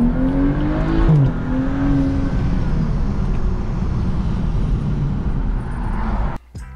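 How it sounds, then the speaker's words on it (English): A BMW 335i (F30) turbo engine drones steadily through an open-box intake with a rushing intake and turbo whoosh, a sustained loud hum that briefly rises in pitch before cutting off near the end. "I wanted open box intake. This one's open. Gives me a lot of cool turbo noises."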